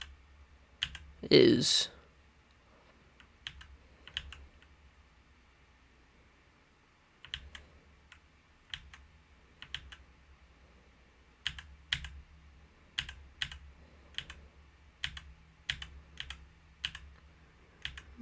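Keyboard keys clack in scattered bursts and short runs, close and fairly quiet, with a brief voice and a loud rustle early on and a low steady hum underneath during a tornado-watch weather stream.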